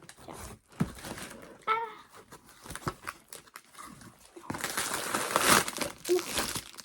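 Crinkling and tearing of paper packaging inside a cardboard parcel box close by, in irregular bursts that grow louder and denser toward the end, with brief voices in between.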